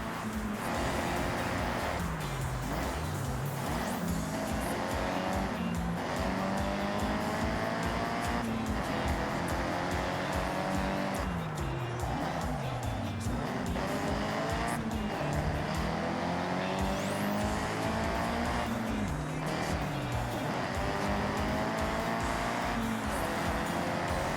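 A convoy of Nissan cars of all shapes and sizes rolls past in the Forza Horizon 6 video game at Daikoku, with continuous engine drone, revving pitch sweeps and tire noise layered thickly over the whole stretch.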